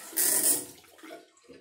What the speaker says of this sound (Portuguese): Dá uma lavadinha com água.